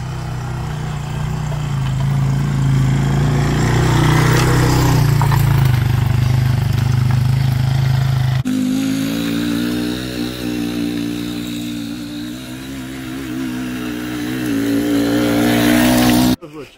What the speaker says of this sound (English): Jaden does some more leveling with the digger